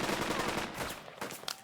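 Gunfire in the World War II tactics game Burden of Command, a rapid burst of shots rattling densely through the first second, then thinning to a few scattered cracks, loud and close.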